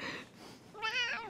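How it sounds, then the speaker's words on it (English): A pet cat meows once in a clear, close, rising cry, preceded by a softer short vocal sound. "I cannot social distance from my kitty!"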